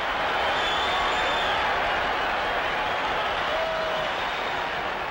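A huge World Series stadium crowd of nearly 66,000 baseball fans roars in a steady, dense wash of cheering and applause that holds loud and unbroken throughout.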